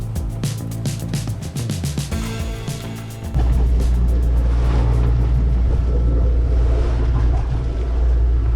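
A sailboat's motor runs out at sea, first mixed with wind and water, then settling into a loud, steady low drone that continues to the end.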